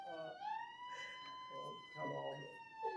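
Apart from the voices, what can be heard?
alarm siren going off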